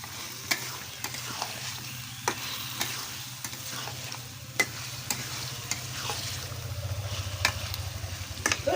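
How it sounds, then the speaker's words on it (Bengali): Marinated chicken fries in a well-cooked spiced masala, a low steady sizzle broken by repeated sharp clicks and scrapes of a spoon stirring against the pan, the sizzle swelling toward the end. "তো ম্যারিনেট করা মাংসটা এখন আমি দিয়ে দেব"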